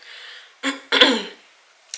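Someone with a sore throat and chesty cough clears their throat in two rough, close bursts, the second longer and harsher, set against quiet breathy background.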